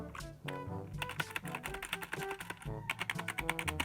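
Rapid, steady keystrokes on a RAKK Sari RGB membrane gaming keyboard, soft muted clacks in quick uneven runs with a brief pause, heard up close and fairly quiet with no talking.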